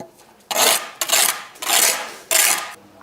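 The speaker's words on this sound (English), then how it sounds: "Ping that line, give it a scrape." Rough rasping scrapes of a tool along a mortar line in brickwork, four strong strokes in a steady rhythm, close and loud with no talking.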